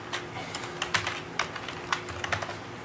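Computer keyboard typing during a data structures lesson, with a steady run of light, irregular key clicks and several sharper taps, close and moderately quiet.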